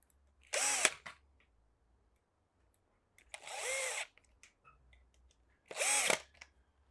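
Power drill driving screws into a part of a Fisher & Paykel washing machine under repair: three separate bursts of whirring, each lasting about half a second to a second, with quiet pauses between them.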